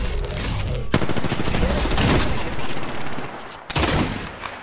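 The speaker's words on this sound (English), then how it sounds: "Listen up, I'm getting shot at." Heavy, close gunfire rattles in rapid automatic bursts during an Apex Legends trios match, loud and nearly continuous with a couple of short pauses.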